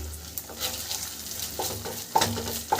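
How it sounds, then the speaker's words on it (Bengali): Scraping spatula strokes stir coconut flesh paste in a wok for a tender-coconut chicken dish over a soft sizzle, with a few louder clanks against the metal. "দিয়ে এটাকে একটু কড়ায় হালকা করে নেড়ে নেব।"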